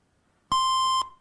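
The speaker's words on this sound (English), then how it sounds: "that was the buzzer for time" A single electronic quiz buzzer sounds at a school scholastic scrimmage, one steady harmonic tone of about half a second, loud and clean, cutting off sharply against a quiet room.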